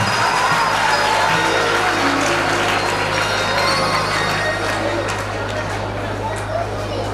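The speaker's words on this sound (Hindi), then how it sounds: "आप इधर तालियां बजाओ" Audience applause at a school annual function, a steady wash of many hands clapping in a large hall with crowd noise and a low hum underneath, continuous and loud.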